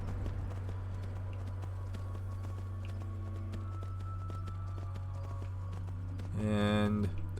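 Rhythmic clip-clop of horse hooves trotting in the video game Skyrim, quick regular beats under a steady synthetic drone, growing louder near the end.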